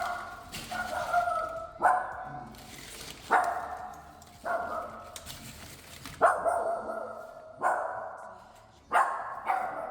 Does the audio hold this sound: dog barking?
yes